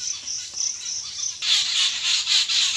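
Bright, high chirping calls repeating steadily, fairly close, growing busier and louder partway through with overlapping trills.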